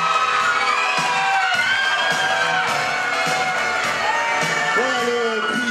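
Festival audience cheering, whooping and shouting together as a loud, continuous crowd roar, with children's high voices rising above it throughout.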